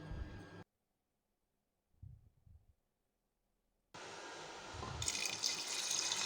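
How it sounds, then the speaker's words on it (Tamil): Rice is washed: water briefly sloshes and swishes after a pause, then a steady stream of running water pours in close by. "ஒரு டம்ளர் பச்சரிசி அதையும் இது கூட போட்டுட்டு நல்லா 2 தடவை தண்ணி ஊற்றி கழுவிக்கலாம்."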